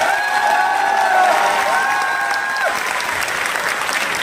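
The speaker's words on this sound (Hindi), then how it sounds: "एक बार जोरदार तालियों से खुद का स्वागत करें" A crowd at a Nutricharge Woman leaders' event gives itself loud, sustained applause, a dense wash of clapping with some cheering and a whistle-like tone sliding through it.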